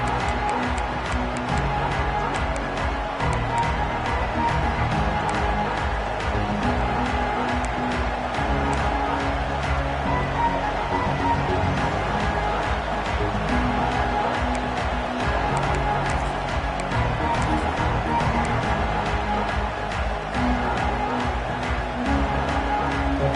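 A packed stadium crowd at a Penn State football game roars in a steady, sustained wash of cheering that never lets up, with a commentator talking over it.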